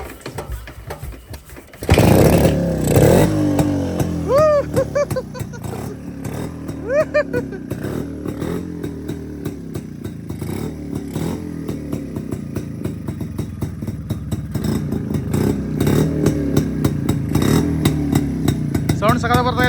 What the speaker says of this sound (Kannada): ನೋಡ್ರಪ್ಪ. ನಮ್ಮ ರೋಡ್ ಕಿಂಗ್ ಸ್ಟಾರ್ಟ್ ಆಗ್ಬಿಡ್ತು.